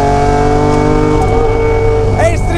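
Lancia Stratos HF rally car engine heard on board, a loud, steady mechanical drone with a brief high whine near the end.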